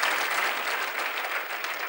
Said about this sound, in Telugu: అవునన్ను వారు గట్టిగా చప్పట్లు కొడతారా?